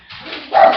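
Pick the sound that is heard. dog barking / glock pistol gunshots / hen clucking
dog barking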